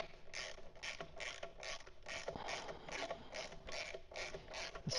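Ratchet clicking steadily as a bolt is snugged on a Black Dog skid plate fitted to a 2025 BMW R1300GS Adventure, a rapid regular train of close, crisp pawl clicks running the whole time.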